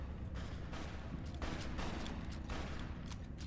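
Gunfire in Fallout: New Vegas, a steady barrage of shots over a loud, dense battle din, with bursts growing heavier partway through.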